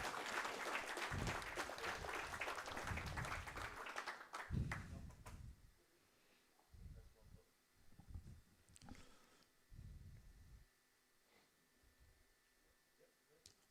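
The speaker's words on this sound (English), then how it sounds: "let's give them all a round of applause" A crowd applauds at an RC drift event, a dense burst of clapping for about five seconds that thins out into scattered claps and faint crowd noise.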